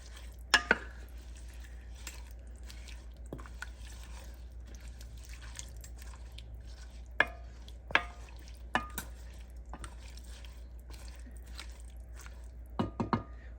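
A spoon works through potato leek soup made with broth in a pot, giving sparse, quiet knocks and clinks against the pot at irregular intervals over near silence.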